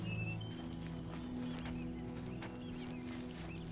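Horse hooves clip-clop steadily through a burned town in the video game The Elder Scrolls IV: Oblivion, faint under a constant low ambient hum with no talk.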